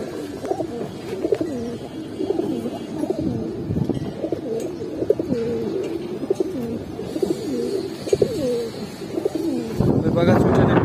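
A pair of Bagha Chuithal Giribaz pigeons, big-sized old-breed birds, coo in repeated rolling phrases close by, with someone talking over them throughout.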